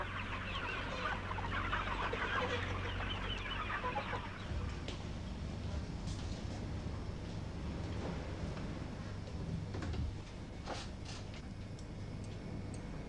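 Broiler chickens clucking inside a broiler house, a dense continuous flock chatter that is loud for the first few seconds and then settles into a steadier, quieter murmur over a low mechanical hum.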